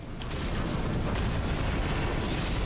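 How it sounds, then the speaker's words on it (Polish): A deep, continuous roaring explosion rumbles in Elden Ring, loud and sustained throughout with heavy low-end boom and no clear talking. "Będzie eksplozja dająca te pociski"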